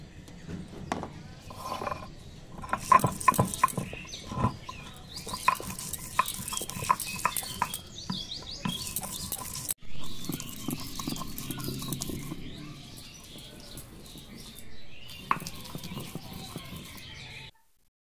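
Fennel seeds and then kalai dal lentils are ground by hand, producing irregular knocking and scraping strokes, sometimes in quick rhythmic bursts, with quieter gaps between them.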